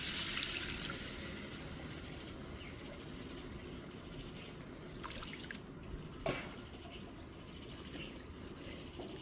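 Water is poured into masala frying in a pan for fish roe kofta, giving a soft, low hiss and faint drips, quiet and close with no talking.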